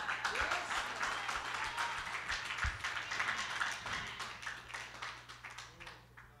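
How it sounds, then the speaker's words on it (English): A church congregation clapping in praise at a conference service, a steady moderate wash of many hands with occasional louder claps, tapering off softly toward the end. "you have to give God a great hand clap of praise for them"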